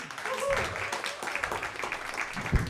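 An audience claps for a comedian at a pro-am stand-up comedy night, a moderate, steady patter of hands with a host's voice talking over it.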